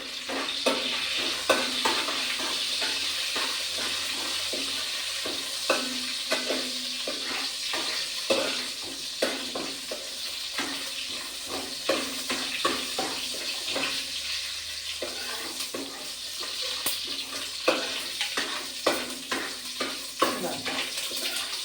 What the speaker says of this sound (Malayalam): വറവ് അടുപ്പത്ത് വെച്ചിട്ടുണ്ട്